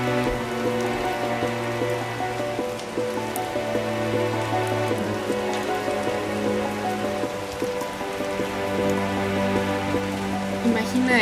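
Rain falls steadily during a storm, a constant patter of drops on surfaces beneath sustained musical tones that play throughout.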